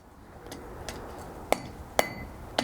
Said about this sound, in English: We're cutting through it with a chisel.